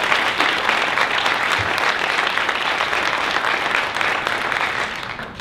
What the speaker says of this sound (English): So let's give a round of applause for all the legislators who are here.